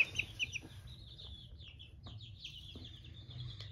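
Ten-day-old chicks raised at home peep in high, repeated chirps, several short calls at first and then a rapid scatter of peeps over low background rumble.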